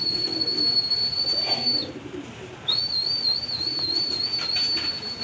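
A sustained high, thin whistle-like tone with a brief break, over low background noise, from a racing pigeon; no cooing is evident.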